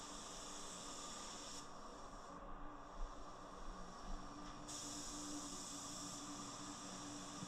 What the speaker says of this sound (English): this thing is definitely gonna spray this clear on pretty nice